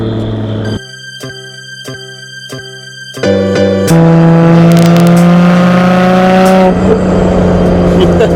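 A Nissan Skyline R32 GTR heard from inside, its engine rising in steady revs as the turbo spools, loud and close, with a sustained climbing drone that swells after a brief pause.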